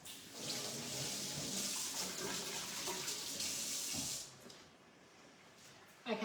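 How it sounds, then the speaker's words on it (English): Tap water runs steadily into a kitchen sink for a few seconds as hands are washed, a soft, even hiss that stops abruptly, leaving quiet room tone. "quickly wash my hands."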